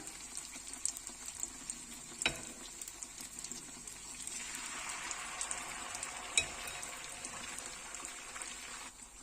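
Rava snack batter frying in hot oil, a steady broad sizzle and crackle that swells midway, with a couple of sharp spatter pops, close and moderately quiet with no talk.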